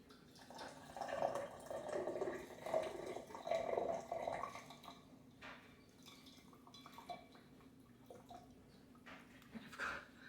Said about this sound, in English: Okay, pour a cup.